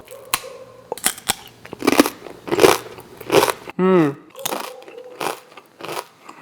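Close, crisp crunching of spinach and gochujang nurungji rice crust being bitten and chewed, with several brittle cracks between short stretches of someone talking.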